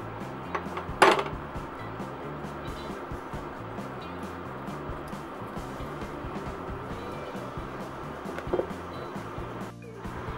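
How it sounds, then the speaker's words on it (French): A spoon stirs cocoa powder into a hazelnut spread mixture in a pot, giving a steady rubbing, scraping rhythm with a couple of louder metallic clinks against the pot and no speech. "vous allez ajouter votre cuillère à soupe de poudre de cacao, comme ceci. Vous allez mélanger."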